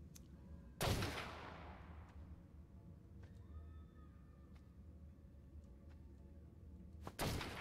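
Two sharp, loud gunshots from sniper and shotgun weapons in a video game, the first with a decaying echo tail and the second near the end, separated by quieter in-game ambience and faint electronic tones.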